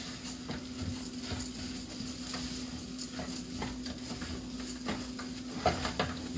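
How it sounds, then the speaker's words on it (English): Rice sautéing with seasoning in a pan gives a steady, soft sizzle under a low hum, punctuated by occasional scrapes and light taps of a spoon stirring against the pan. "Alright, so we'll saute the rice a little."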